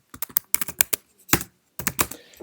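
Terminal commands are typed on a Mac computer keyboard: close, crisp keystrokes in quick irregular bursts with short pauses between.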